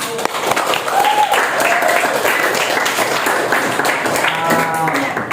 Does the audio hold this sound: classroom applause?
yes